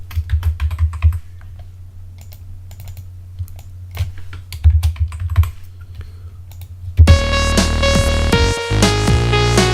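Rapid, uneven typing on a computer keyboard, close and clear, in bursts of keystrokes for about seven seconds before loud sustained music takes over.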